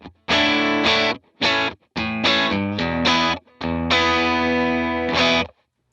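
An electric guitar plays through the HX Stomp's dry output with overdrive and distortion, loud, close, gritty chords in short separate bursts with brief silent gaps between them.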